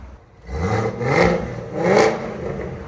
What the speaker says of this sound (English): 2020 Camaro ZL1, put a Corsa kit on it